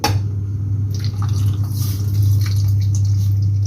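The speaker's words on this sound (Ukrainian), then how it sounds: "Далі додаємо грам 50-100 води сюди" Water splashing and sizzling as it is poured into a hot frying pan of pork patties, a continuous hissing bubble over a steady low hum, with no talking.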